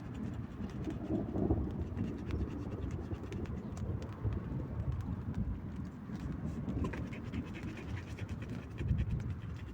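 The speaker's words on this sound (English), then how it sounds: "Listen to the thunder." Long, continuous rumble of thunder during a storm, a low broadband roar that swells and fades without pause for the whole stretch, with no talk over it.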